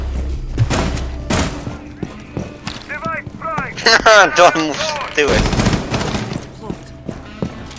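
Rapid bursts of Rainbow Six Siege gunfire crackle amid clattering effects, with people laughing and talking over the shots.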